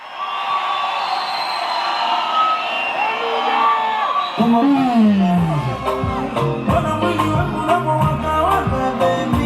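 A large festival crowd at a live concert cheers, whoops and shouts steadily and loudly, with music starting up partway through and the noise carrying on over it.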